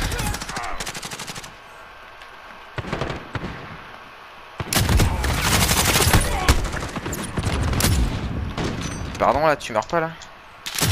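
Call of Duty gunfire: bursts of automatic weapon fire crackle in rapid runs, loud and close, with quieter gaps between volleys and someone talking over the action.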